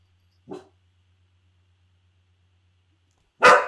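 A dog barks twice indoors, a softer short bark followed about three seconds later by a louder, sharper one, with near silence in between.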